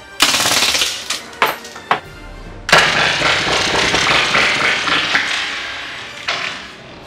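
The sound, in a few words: airsoft pistol firing in burst mode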